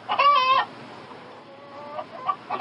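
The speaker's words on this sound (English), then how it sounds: "I have the chicken in my room." A chicken clucks over a phone line, one loud burst of squawking clucks followed by softer, fainter clucks, thin and band-limited like a call recording, with no talk.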